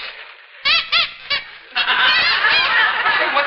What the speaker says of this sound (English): It's my lucky duck.